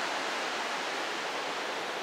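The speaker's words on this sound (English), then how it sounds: "there's a massive waterfall where the lava used to run" A massive waterfall pours down inside a mountain crater in Ecuador, where lava once ran, giving a steady, dense roar of rushing water that holds without a break.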